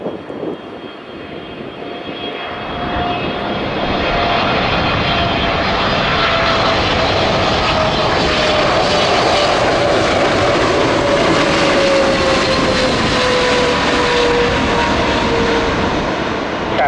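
Airliner on landing approach into Chicago O'Hare in wildfire smoke, a loud steady engine roar with a slowly falling whine that swells over the first few seconds and holds close and continuous, with no talk.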